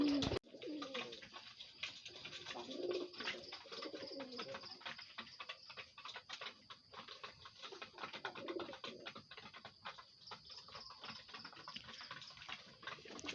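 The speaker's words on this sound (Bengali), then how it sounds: "এই দেখেন আবার একটা সাদা কবুতর, আমার ফার্মের অনেক কিউট একটা কবুতর" A white pigeon coos softly in low, repeated murmurs while eating at a pigeon farm, over a constant hiss of background noise, with occasional faint clicks.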